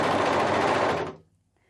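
A sewing machine runs a fast, steady stitch along the neckline of a turtleneck being converted to a scoop neck, a dense mechanical rattle lasting about a second before stopping abruptly into near silence.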